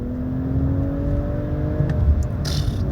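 A 2025 BMW M440i engine revving with steady mechanical whir and rising pitch under quick gear changes, a sustained close drone with a brief higher burst near the end.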